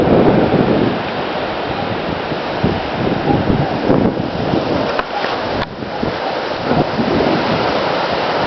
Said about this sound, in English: just watch the wind whip these trees